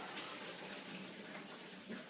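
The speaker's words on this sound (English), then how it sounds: "strain the pasta" Pasta water pouring through a colander, a steady close rush of splashing water with no other sounds.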